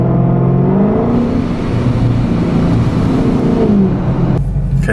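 A Ford Mustang GT350 draws close behind another car and revs, a steady loud engine drone with rising and falling pitch throughout, ending in a deeper rumble.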